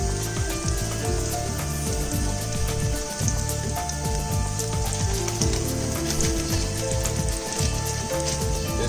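Garlic sizzles steadily in a hot frying pan, a dense, loud crackle with popping spatter that runs unbroken and close, with no talking over it.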